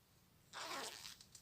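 A zipper on a knitted bag is pulled open in one brief, close rasp after a moment of quiet, trailing off in a few small ticks.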